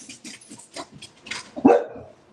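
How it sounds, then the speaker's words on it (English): A dog named Beans barking indoors: a series of short yips and barks ending in one louder, sharper bark, close by. "Beans, what are you barking at?"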